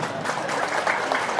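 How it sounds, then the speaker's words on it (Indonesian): Applause from an audience at an Indonesian religious lecture, a dense steady patter of clapping throughout, fairly close and even in loudness. "tepuk tangan"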